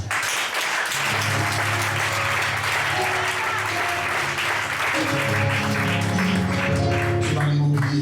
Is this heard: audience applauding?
yes